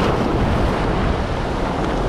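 Large storm waves crash and churn along the shore in a continuous, loud roar with heavy wind buffeting the microphone.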